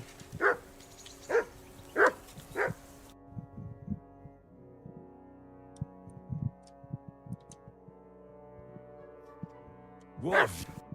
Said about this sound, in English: call off that mutt of yours. Say something to that dog.